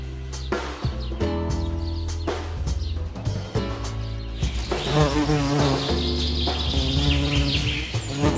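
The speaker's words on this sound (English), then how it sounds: "having a few bees buzzing around never hurt" Bees buzz steadily around grapevines throughout, with a few louder passes near the microphone and faint bird calls in the background.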